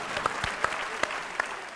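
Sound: audience applause for the singer

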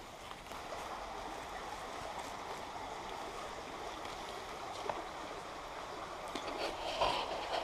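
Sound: stream flowing near Rhos-y-felin

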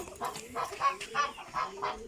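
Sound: chickens clucking

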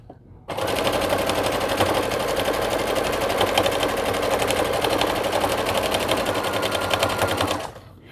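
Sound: sewing machine sewing a hooded towel

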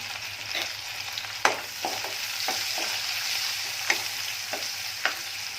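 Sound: onion sautéing in pan with turmeric

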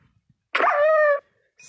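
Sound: dog barking in the video game Minecraft

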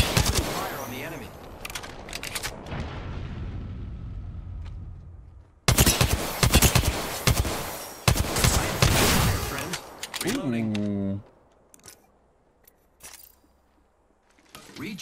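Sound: gunfire from the video game Apex Legends

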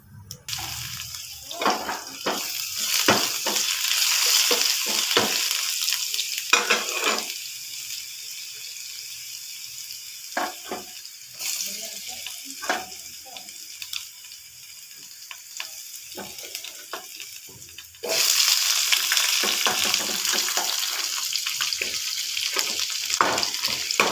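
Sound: tempering cumin, onion and garlic in hot oil

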